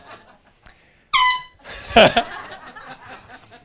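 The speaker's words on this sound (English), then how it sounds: "If you just want to test if your air horn works, you may do that right now." One sharp, loud air horn blast, then a crowd bursts into laughter and chatter.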